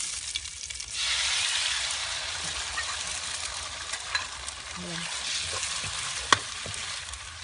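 Eggs fry with a steady hiss and crackle in a hot pan and are stirred now and then, with occasional sharp scrapes and clinks of the utensil; close and fairly loud, cooked as part of a Lao khoa mi rat na noodle dish, no talk.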